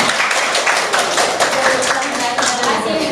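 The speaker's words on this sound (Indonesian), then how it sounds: "tepuk tangan" A classroom of vocational school students claps together, a dense, close patter of handclaps lasting a few seconds, with voices mixed in.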